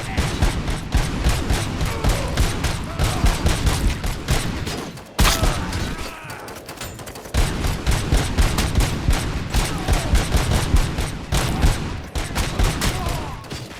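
Heavy gunfire crackles nonstop in RoboCop: Rogue City as loud bursts and rapid shots overlap almost continuously. Bullets keep coming from behind, and one brief lull breaks up the barrage.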